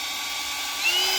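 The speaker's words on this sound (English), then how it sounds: "I'm using my handy dandy Harbor Freight drill operated pump here" A Harbor Freight drill-operated pump pushes old antifreeze back into a diesel generator's radiator, giving a steady, close, high-pitched whine that climbs a little near the end.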